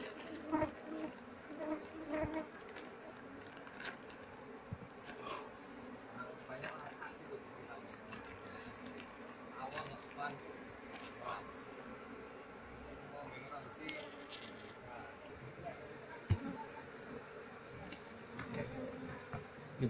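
Apis cerana honey bees buzz in a faint, shifting drone during a honey harvest, with scattered clicks and handling noises, quiet and close, while someone talks intermittently in Indonesian.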